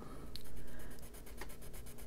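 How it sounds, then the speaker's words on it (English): An AquaBlend pencil drawn across paper while colouring, giving a soft continuous scratchy rasp with a few light strokes, close and quiet, with no talking. "I'm going to do a color with the pencil."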